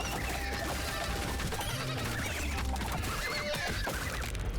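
Tiny duck-sized horses in a video game, neighing and whinnying amid a busy, dense wash of game sound effects, steady and moderately loud throughout.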